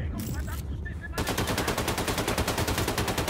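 Rapid automatic assault rifle fire in Wolfenstein II, a steady, loud, evenly spaced burst of shots that starts abruptly after a moment of quieter game sound and continues to the end.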